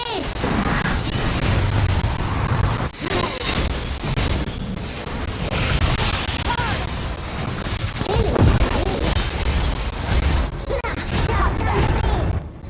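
A turret being destroyed in the mobile game Honor of Kings, heard as dense, loud crashing and booming battle effects, continuous and layered, with an excited voice talking over the game sounds.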